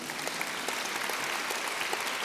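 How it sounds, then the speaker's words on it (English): Audience applause at an interview and Q&A event, steady dense clapping from a crowd filling the whole stretch, fairly even in loudness with no talk over it. "I say a round of applause to that"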